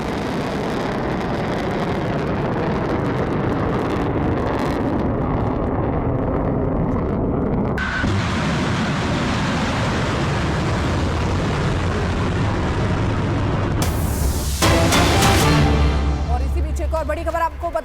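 A loud, continuous roar with a deep rumble runs throughout, then a harsher blast-like burst near the end: a missile launch and explosion during the Israel-Iran war.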